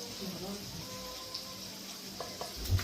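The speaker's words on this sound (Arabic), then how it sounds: "بعد كده هننزل بقى الخليط اللي احنا عاملينه" Beaten egg mixture with salt hits a hot pan and sizzles steadily, a close frying crackle with a few soft knocks near the end.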